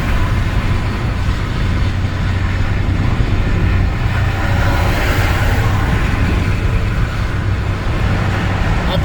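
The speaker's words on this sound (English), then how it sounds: "we're cruising about 70, and nice and smooth, no pressure, but cars are just passing us left and right" Steady, loud highway traffic roar at about 70 mph, a continuous broadband wash of tire and engine noise as cars pass on both sides, with no talk.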